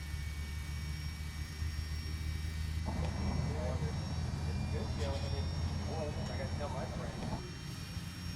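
Boeing 757 jet engine spooling up during start in the X-Plane 10 flight simulator, a steady low turbine drone with a louder whining layer joining partway through, with a voice speaking at times.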